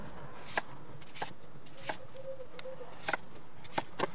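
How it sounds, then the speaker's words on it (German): A knife slicing onions into 2-3 mm rings on a cutting board, giving about eight crisp, evenly spaced cuts over a quiet background. "Die Zwiebeln schneiden wir in Ringe, die 2-3 mm stark sind."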